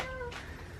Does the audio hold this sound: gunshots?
no